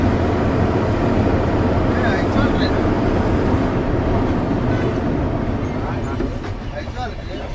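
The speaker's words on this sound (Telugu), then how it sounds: "ఏదో తాత రైలు వస్తుందే." A train passes near a bridge on the road toward Karimganj, a loud, continuous broadband rumble that holds steady and eases slightly toward the end.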